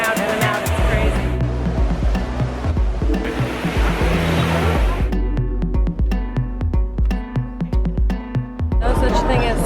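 Crowded Trevi Fountain in Rome on a rainy day: a constant loud rush of splashing fountain water blends with the hubbub of many people, later broken by clattering, irregular knocks close by.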